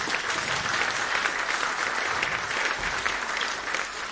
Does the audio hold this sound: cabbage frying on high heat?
no